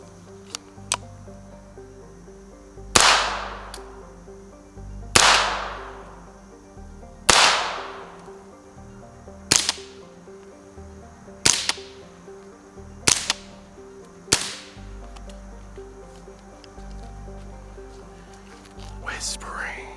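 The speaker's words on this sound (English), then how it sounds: "let you hear the difference between a subsonic round going through this AR pistol without a suppressor and then with a suppressor" Subsonic rimfire rounds fired one at a time from an AR pistol, first unsuppressed and then suppressed: about eight sharp cracks spaced a couple of seconds apart, with ringing tails, and the later shots shorter and quieter.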